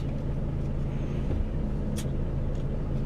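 Air hissing as the handbrake of a Volvo FH truck loaded with timber and MDF is released, a short sharp burst over a steady idling engine rumble inside the cab.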